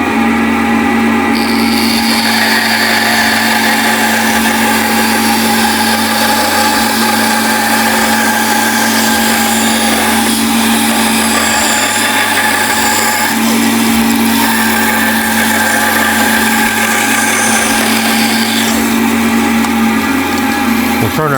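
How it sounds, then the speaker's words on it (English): A bandsaw runs while cutting scrap wood into a jewelry box, a loud continuous motor whine with a steady hum and changing blade tone as the cut goes on. "We'll turn our bandsaw off and wait till it comes to a complete stop"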